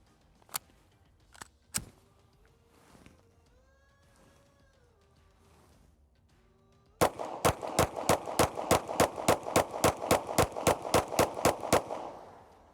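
A Canik compensated carry pistol fires a rapid string of about fifteen loud, sharp shots close by, after a few scattered earlier reports and a quiet stretch.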